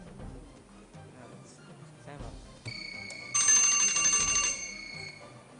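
Quiz competition bell between school teams rings once, a bright metallic trill lasting about a second, ringing out clearly over faint background murmur in a hall.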